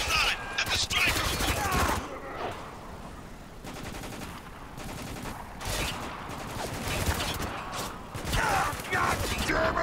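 Heavy automatic gunfire rattles in dense bursts through a combat firefight in the game Spec Ops: The Line, loud and near, with shouting voices mixed over the shooting.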